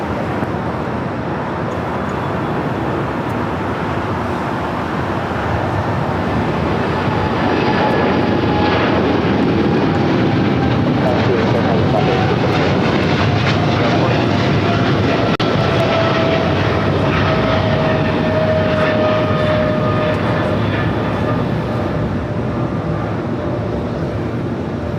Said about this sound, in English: we got that DHL Kalitta Air 777 freighter heading to Cincinnati. Now rolling down to 25 right